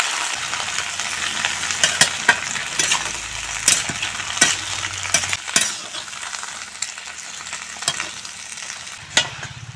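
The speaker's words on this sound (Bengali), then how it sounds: "সামান্য হলুদ গুঁড়া আর সামান্য লবণ দিয়ে শিম ভেজে নেব।" Green beans frying with turmeric and salt in hot oil, a steady sizzle broken by repeated sharp scrapes and clinks of a spatula stirring in the pan, close and alone.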